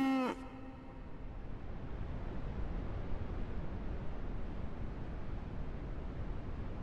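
Cattle in the train game Railroads Online, a single short moo at the start, then a steady low ambient hiss with no further calls.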